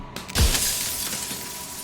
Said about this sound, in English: another crack forms, and another, turning the mirror into jagged shards of broken glass